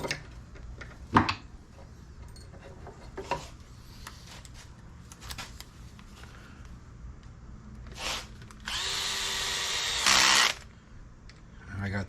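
Cordless drill driver in ratchet clutch mode running long and short screws into an upgraded front differential for a DBXLE 2.0, heard as a loud sustained whirring burst near the end after quieter handling clicks and talk.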